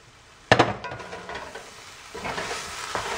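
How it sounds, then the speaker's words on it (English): A utensil stirs food frying in a pan, starting with a sharp clattering scrape, then steady sizzling under softer scraping strokes, close and with no talk. "I'm gonna stir it again here"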